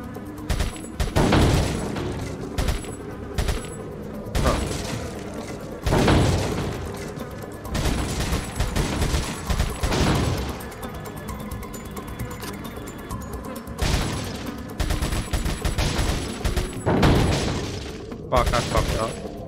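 Gunshots ring out in Resident Evil 4 HD Remaster, with repeated sharp booms and bursts scattered among mechanical clicks and game sounds, at moderate loudness, and a voice is heard at times.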